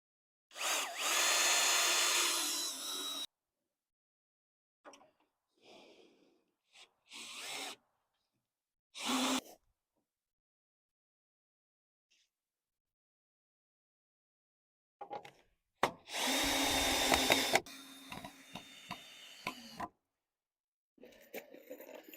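A power drill drives screws into a greenhouse wall in bursts: a long whirring run, several short blips, then another sustained drive, close and loud, separated by near-silent pauses.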